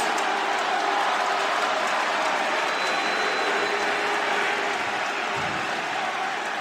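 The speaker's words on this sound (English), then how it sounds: "I hear boos, but I also hear clapping" A live crowd roars with a steady wash of clapping and booing that holds at an even level throughout.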